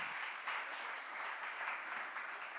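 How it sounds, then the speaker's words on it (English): An audience applauds speakers on stage at a conference event, a steady, fairly faint patter of many hands clapping for a couple of seconds with no talk over it. "Please give them an applause."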